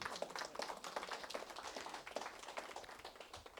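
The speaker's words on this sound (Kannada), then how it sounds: "ಚಪ್ಪಾಳೆ ಹೊಡಿಬಹುದು." An audience clapping at a lecture gathering, a quick scattered patter of hand claps that stays fairly even and soft for a few seconds, with no talk over it.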